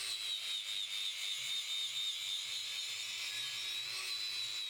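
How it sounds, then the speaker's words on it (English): An angle grinder fitted with a wire wheel strips old paint and rust from Moto Guzzi Le Mans 3 motorcycle parts, giving a continuous high-pitched whine with a steady buzzing scrape, close and loud throughout. "I opt for some therapeutic work with an angle grinder and wire wheel"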